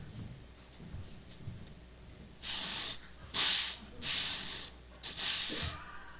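Sandpaper rubbed in a demonstration, four distinct harsh scratchy strokes in quick succession, close and loud, after a quiet stretch with faint background noise.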